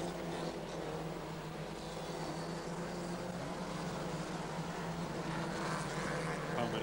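Saloon stock cars racing at Newton Abbot make a steady, continuous roar of engines as the pack gets underway, a broad blended rumble at even loudness with no talk over it.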